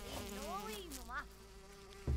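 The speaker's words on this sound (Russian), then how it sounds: "Уйди, муха." Housefly buzzing in the jungle survival game Green Hell, a close, wavering drone that swoops up and down in pitch, passing near and away over a steady low hum, with a brief bump near the end.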